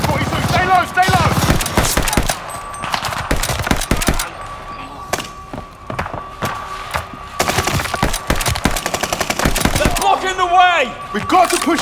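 MG42 machine gun fire in Call of Duty: Vanguard, with loud rapid bursts of automatic shots in several clusters over battle noise, plus shouted voices.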